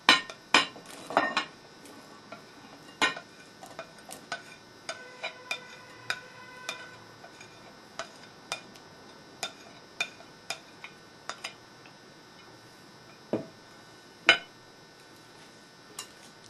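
Utensil clinking against a bowl while gently mixing frittata ingredients, irregular light taps and scrapes repeating for several seconds, close by, with no voices.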